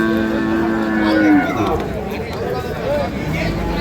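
A Sahiwal bull at a cattle market in Dinajpur lets out a drawn-out moo up close, then a couple of shorter lowing calls follow amid a murmuring crowd and nearby talk.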